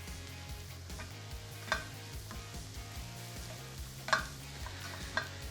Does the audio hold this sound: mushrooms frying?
yes